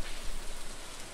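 Steady rain falling in the Stardew Valley video game, a dense even patter filling the short stretch without pause, moderately loud with no talking.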